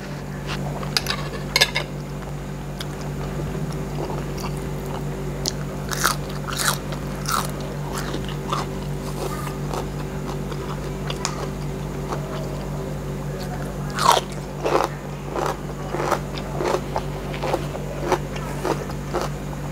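Utensils clink against a dish and chewing bites sound as someone eats spicy Thai rice noodles with chicken curry. The clicks and crunches are close and irregular over a steady low hum, with no talk.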